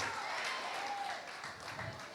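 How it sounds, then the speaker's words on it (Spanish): A church congregation breaks into applause during a preaching service, a dense, steady wash of clapping that fills the space and fades slightly toward the end. "Alguien aplauda."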